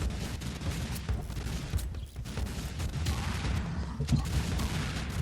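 Gunfire in the video game Serious Sam 2 fills the scene with dense, continuous, rumbling blasts that overlap into a steady barrage of explosive impacts, with no clear pause.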